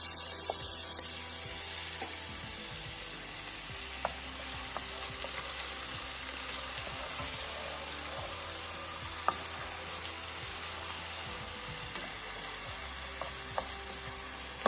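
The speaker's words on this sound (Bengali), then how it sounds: "দেখুন আমার পেঁয়াজটা মোটামুটি একটু ভেজে নিচ্ছি, একটু হালকা লাল হয়ে আসছে" Chopped onions fry in about half a cup of oil in a pot on the stove, giving a steady close sizzle with occasional sharp clicks and stirring scrapes, and no voices.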